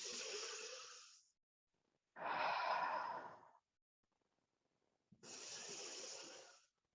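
Three long, soft breaths during a slow chi movement exercise, drawn in and let out with brief silent gaps between them, close and fairly quiet, with no talking.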